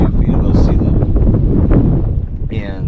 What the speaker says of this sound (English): Please do excuse the wind, it is quite windy up here.